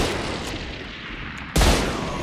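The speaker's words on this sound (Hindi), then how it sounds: "ओह शॉट है" A gunshot in a video game cracks out as one sudden loud blast about two-thirds through, cutting into a steady hiss of background noise that carries on afterward.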